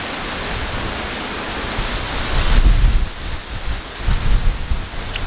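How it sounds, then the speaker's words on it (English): Strong wind blowing outdoors in rural Appalachia, a steady broad roar that swells into louder gusts partway through, with no talking. "Lots of wind now"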